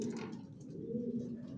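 A racing pigeon, a long-down-shape hen sitting on eggs in a loft, coos softly and steadily, a low continuous murmuring close to the microphone with a faint chirp near the start.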